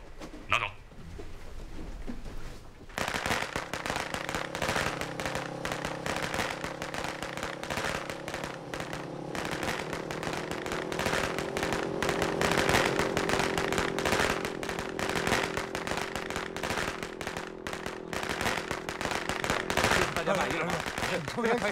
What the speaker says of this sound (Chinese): 明天他们在放鞭炮庆祝呢